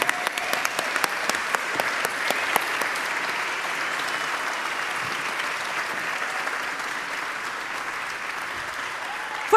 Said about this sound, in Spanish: Fuerte el aplauso para Ignacio Agüero.